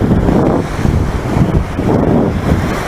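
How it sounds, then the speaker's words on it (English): Loud ocean waves surge and wash in a steady roar, with heavy wind buffeting the microphone throughout. "it's kind of loud with the waves"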